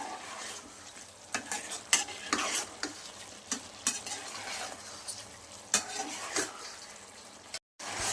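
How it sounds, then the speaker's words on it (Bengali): Eggplant and potato being sautéed for a katla fish curry: a steady pan sizzle with repeated scraping strokes of a spatula against the pan, close and fairly quiet, with no talking. "দেখুন বন্ধুরা আমি ভালোভাবে কষিয়ে নিচ্ছি।"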